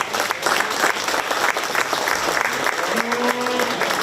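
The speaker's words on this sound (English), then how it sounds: "Please give those kids a round of applause." A county fair 4-H/FFA market beef show audience claps steadily for a few seconds, with a brief tonal sound near the end.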